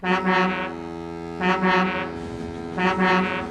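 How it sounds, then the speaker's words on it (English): Deep, loud cartoon foghorn blasting three times in a row, each long harmonic blare separated by short gaps, with no talking over it. "That foghorn is so loud it rattles my dome."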